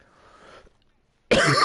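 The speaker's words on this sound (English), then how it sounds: "God damn, this fucking cough." A single harsh, loud cough bursts out near the mic after a second of faint background, alone without other voices, from a man playing Madden 23.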